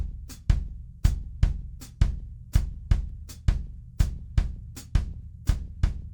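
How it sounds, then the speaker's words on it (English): Drum kit grooving in a baião pattern, with a steady, regular bass drum and hi-hat strokes under a ride cymbal, played alone at close range with crisp, evenly spaced hits. "So this bass drum pattern is going to sound like this."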